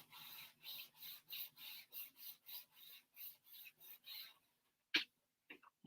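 Paper being burnished for a nature-themed mini album craft, a steady run of about a dozen rhythmic rasping strokes close by, then a pause and a few brief clicks.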